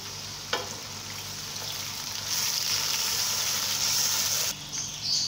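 Softened onions and chopped tomatoes cook in a pan for bhindi gosht, sizzling steadily up close. A single clink sounds near the start, and the frying grows louder midway before briefly dipping.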